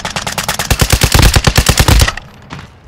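Loud, rapid burst of automatic gunfire in Call of Duty Modern Warfare II Warzone, with about twenty close shots in a steady rhythm that stop abruptly and leave a quiet tail.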